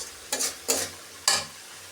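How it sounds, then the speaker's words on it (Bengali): Chicken meat sizzles in a pan of cooked-down spice paste as a spoon scrapes through it in three distinct stirring strokes, close and clear, with no talking. "এবার আমি মাংসটা দিয়ে দিব"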